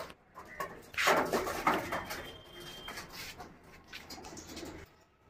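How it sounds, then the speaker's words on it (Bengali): Pigeons coo repeatedly after being released, a close, fairly loud run of soft throaty calls with some fluttering and bird noise, fading out near the end; no talking. "তো দেখে নাও পায়রা একদম অ্যাক্টিভ আছে"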